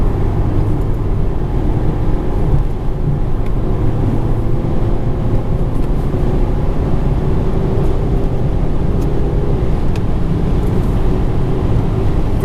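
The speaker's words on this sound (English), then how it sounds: "We're driving quite a high speed now." A 2015 Mercedes-Benz C 220 CDI cruising at high speed, heard from inside as a steady, loud broadband rush of road and wind noise with a low drone, unchanging throughout and without speech.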